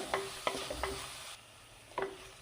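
A spoon stirs sautéing onion, tomato, garlic, ginger and green chilli for a sardine fish masala in a pan. Four distinct scraping strokes sound close over a steady soft sizzle, with a quieter gap before the last one.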